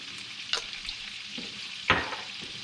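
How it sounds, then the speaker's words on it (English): Capers and garlic cook in melted butter in a pan at a creek-side catch-and-cook, giving a soft background sizzle with two distinct scraping stirs and a lighter one, close and fairly quiet. "our butter's cooking down. We got some garlic in there. Now we're just gonna add some capers."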